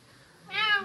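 A pet cat gives a single clear meow in a rural house near a mountain cave, rising in the second half and fairly close.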